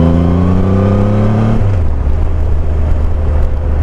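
A Triumph Rocket III motorcycle engine revs loud and close on a light throttle blip, a steady deep drone that rises in pitch and then drops back to a heavy rumble, with no voices.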